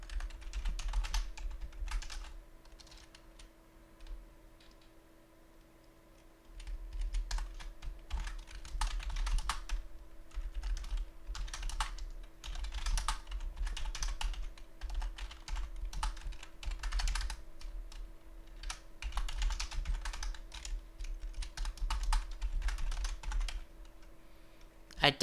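Steady, rapid keystrokes on a computer keyboard while coding a Friday Night Funkin' engine in Godot C++, clacking in dense bursts with brief pauses over a low constant hum, close and moderately loud, with no talking.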